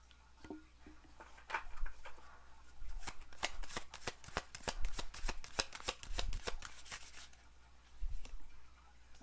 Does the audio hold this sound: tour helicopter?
no